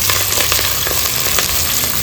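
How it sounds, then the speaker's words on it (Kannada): Green chillies and curry leaves fry with onions in hot oil for a spicy pork curry, giving a loud, steady, close crackling sizzle with a few faint stir scrapes and no talk. "ಒಂದು 4 ಹಸಿರು ಮೆಣಸಿನಕಾಯಿನ ಹಾಕ್ಕೊಂಡು ಫ್ರೈ ಮಾಡ್ಕೊಳ್ಳೋಣ."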